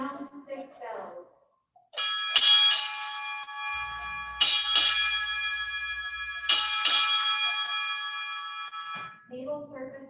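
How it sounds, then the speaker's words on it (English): Ship's bell struck six times at a naval retirement ceremony, ringing in three pairs of bright, sustained strikes with long decaying tones; a voice announces before and after the rings. "Sound 6 bells."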